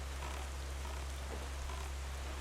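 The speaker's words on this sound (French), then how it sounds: "il pleut beaucoup en ce moment" Steady hiss of rain falling in the Zelda Wind Waker video game, an even, continuous wash with a low hum beneath it and no voices.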